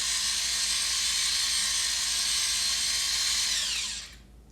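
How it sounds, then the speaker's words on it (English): An automatic grinder runs continuously while grinding toasted sesame seeds for a spicy tuna roll, a loud, steady, high-pitched motor whir that stops abruptly near the end. "Now I like to grind some toasted sesame seeds on here with this cool automatic grinder."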